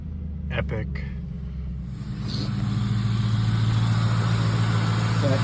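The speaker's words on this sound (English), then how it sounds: "That is an engine." Ford Mustang engine idling close by, a steady low rumble that grows slightly fuller after the first couple of seconds, with people talking over it early on.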